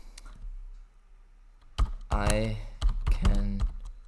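Computer keyboard keys being typed while entering code, a few close, crisp bursts of clicking near the end, with a voice speaking briefly during the typing.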